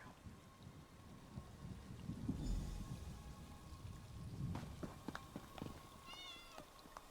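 Cats meowing in The Elder Scrolls Online, a few faint quavering meows late in the clip over a bed of rain and low rumbling, quiet and somewhat distant.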